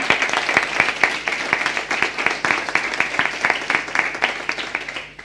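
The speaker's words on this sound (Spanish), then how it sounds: "Un aplauso para la Pati también, ¿no?" An audience at a church-related gathering gives a moderate round of applause, rapid overlapping claps holding steady for several seconds before tapering off.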